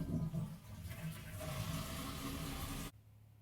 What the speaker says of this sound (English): So what we got to do is flush the toilet.